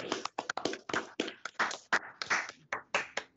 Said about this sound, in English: give Mark Teal a virtual round of applause this morning